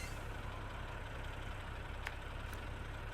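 A Paystar truck engine idles steadily in the SnowRunner video game, a continuous low rumble with a couple of brief higher clicks near the end.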